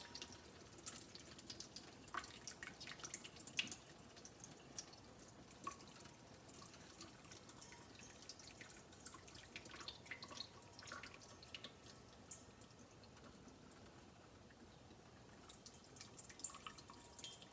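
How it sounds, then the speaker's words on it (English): Water drains from a soaked orchid pot filled with wood chips, a faint, close trickle broken by irregular small drips that keep going throughout. "What I'm gonna do is carefully drain it off."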